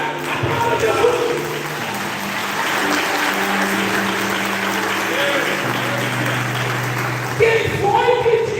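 A church congregation applauds at an anniversary service in Bagé, the clapping steady and full beneath a sustained musical drone, with voices rising near the end.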